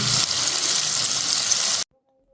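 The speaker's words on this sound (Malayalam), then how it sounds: "നല്ല ചൂടാണ് ഇതിലേക്ക് നമുക്ക് ചിക്കൻ ഇട്ട് കൊടുത്ത് നമ്മൾ ഇടയ്ക്കും ജസ്റ്റ് ഇവിടെ ഇളക്കി തുടരണം" Chicken pieces for homemade chicken popcorn hit very hot oil and are stirred now and then, giving a loud, steady, hissing sizzle for about two seconds before it cuts off abruptly into silence.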